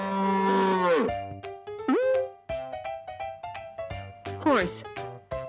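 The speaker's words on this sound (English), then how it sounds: "Cow." A cow gives a long, loud moo up close, followed by a playful musical backing with plucked notes and a few short sound effects.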